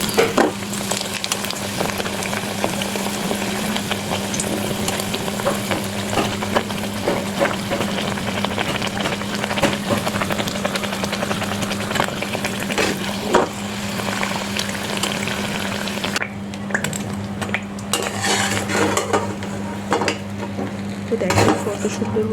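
Aloo puri deep-fry in hot oil, a continuous close bubbling sizzle over a low hum, with occasional light clinks of a utensil against the pan.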